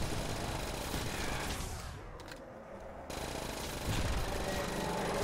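Grenades go off in a Call of Duty World at War custom zombies match, a loud continuous barrage of explosive blasts and gunfire-like bursts that briefly drops away and then returns full force; no talking.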